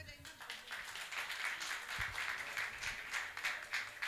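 Audience clapping at a Father's Day celebration and book release, a faint, continuous patter of applause with a few taps, quiet and distant with a voice faintly beneath it.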